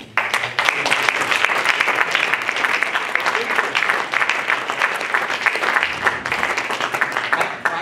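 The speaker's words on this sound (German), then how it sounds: "vielleicht nochmal ein Applaus an alle zu Ehrenden heute" Sustained applause from an audience at an awards ceremony during a local political association's annual general meeting, dense, even clapping filling the whole stretch with no break.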